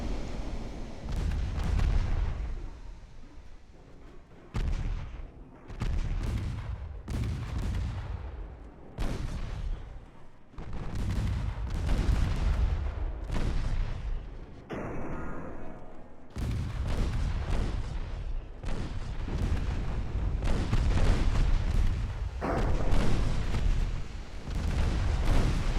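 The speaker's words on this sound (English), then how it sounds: "there's fucking Nebraska out there with its big-ass guns" Big naval guns of the battleship USS Nebraska firing in the naval strategy game Ultimate Admiral Dreadnoughts, deep booming salvos roughly every couple of seconds over a constant roar of battle and sea noise.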